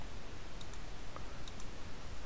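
Mouse clicks while working in AutoCAD on a dynamic block drawing, heard as two or three faint, sharp double clicks spaced across a quiet stretch with a low background hum and no talking.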